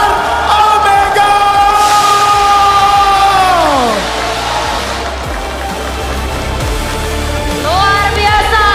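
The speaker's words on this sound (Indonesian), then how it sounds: "Sekarang kita tepuk tangan untuk MBR Omega" An esports arena audience roars as champion team MBR Omega lift the FFNS trophy: a loud, dense, continuous crowd wash with long whooping yells sliding up and down above it, sustained for the whole stretch without clear speech.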